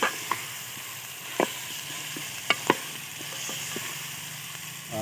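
Mutton fries in spices, hissing and sizzling steadily in the pan while a spoon stirs it, with a few sharp scrapes and clinks standing out over the sizzle.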